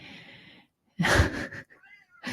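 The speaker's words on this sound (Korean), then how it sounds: "이 셋째가 자꾸 막 야옹야옹 울면 둘째가 화내요" Domestic cat meowing indoors, one loud drawn-out meow followed by a shorter second call and a brief third onset, close to the microphone with no talking.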